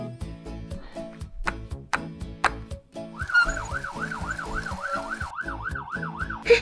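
A toy fire truck siren wails in a steady rising-and-falling pattern, loud and close, over plinky toy music that plays throughout.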